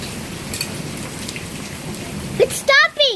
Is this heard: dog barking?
no